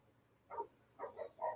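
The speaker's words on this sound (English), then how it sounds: "my dogs are barking and I'm going to leave it like that" Three faint barks from a distant dog, spaced a fraction of a second apart, with quiet background otherwise.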